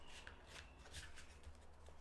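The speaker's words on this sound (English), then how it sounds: "Shuffle these cards up." Tarot cards being shuffled in quick riffling bursts, a soft papery flutter repeating over a steady low hum, close by with no voices.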